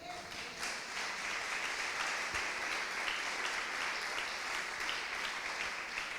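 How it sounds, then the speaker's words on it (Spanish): A church congregation claps together in sustained, even applause, heard a little distant and soft, without any voices above it. "Dele un aplauso al Señor."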